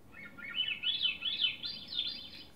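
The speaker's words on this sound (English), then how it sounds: "It's a thrush, and it's called a Swainson thrush." A Swainson's thrush sings its flute-like song in a series of rising, spiralling phrases. The bird is clear and moderately close over a quiet background, and no voices are heard.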